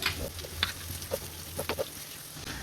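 Chopped onions sautéing in a pan for beef chukka, a soft, steady frying hiss with light intermittent scrapes and clicks of a stirring spoon, fairly quiet and close.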